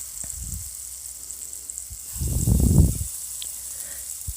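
Oiled chicken tikka pieces hit a hot pan one after another, giving short bursts of sizzling, then a louder, fuller hiss that swells briefly and fades back to a faint background.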